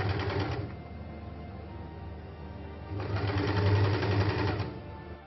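A sewing machine stitches a folded bias binding strip onto a kurti in two bursts of fast, even whirring with a quieter pause between them, close up with no talking.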